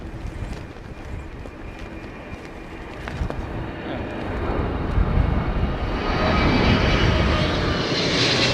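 An airplane flying at Heathrow Airport during Storm Darragh, its engine roar swelling from a distant rumble to a loud close pass, with gusting wind buffeting the microphone.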